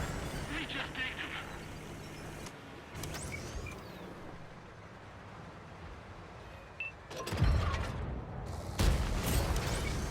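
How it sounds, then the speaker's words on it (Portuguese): An IS-7 heavy tank's cannon firing in a tank video game: two loud, booming shots come near the end, over a steady mechanical engine rumble. "Eu vou tentar dar até um tiro na parte mais alta aqui do tanque."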